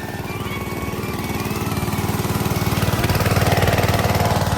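A water pump machine runs at a flooded fishery, its engine chugging in a fast steady pulse that grows slightly louder over several seconds, close by with no talk.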